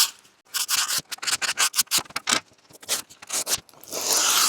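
Hand sanding metal with an old 80 grit stick-on disc from a random orbital sander, used by hand on a fan shroud: quick rasping back-and-forth strokes in bursts, close and fairly loud, ending in a longer steady scrub.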